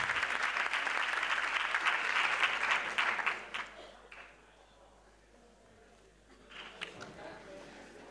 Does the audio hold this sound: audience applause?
yes